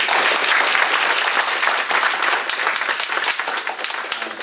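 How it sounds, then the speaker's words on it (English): An audience applauds a panel at a food-and-resources talk, steady dense clapping from a full room that tapers slightly toward the end. "So let's give them a round of applause."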